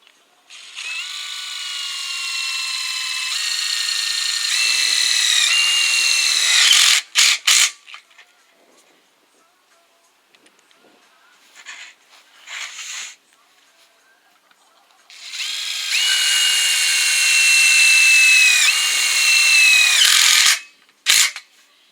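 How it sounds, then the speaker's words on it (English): Power drill driving self-tapping screws into angle iron on a pole, two loud, sustained whining runs separated by a quiet gap with brief clicks and bumps, a voice speaking now and then. "I'm just using a self-tapping screw. Put them in."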